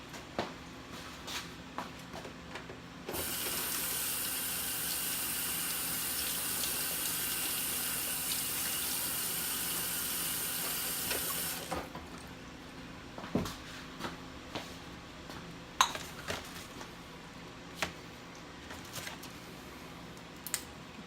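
Tap water running steadily for several seconds as fresh hot peppers are rinsed in a sink, a bright hissing stream that stops abruptly, followed by quiet clicks and handling noises.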